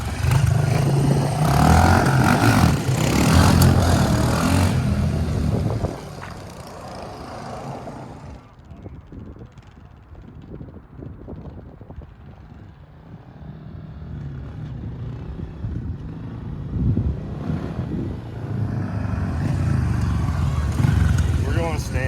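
Honda Fat Cat TR200 and CRF110 motorcycles drag racing, engines revving loudly up close, fading to a distant drone, then roaring back in, with people talking over it.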